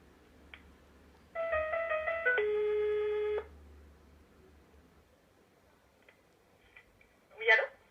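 A telephone line during a call transfer, with a clear electronic ringing or tone sequence lasting about two seconds, then quiet line hiss and a brief burst of noise near the end.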